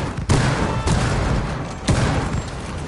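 Rainbow Six Siege gunfire: a few sharp, loud shots spaced about a second apart, each ringing out over a busy, noisy in-game background.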